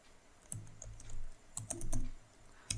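Fingers typing HTML code on a computer keyboard, irregular bursts of close, clacky keystrokes with short pauses between them and no talking.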